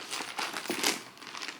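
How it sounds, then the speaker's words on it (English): Crinkly paper stuffing is pulled out of a new luxury purse in a quick run of close, crackling rustles and crumples lasting under two seconds, with no talking. "So let's take the stuffing out."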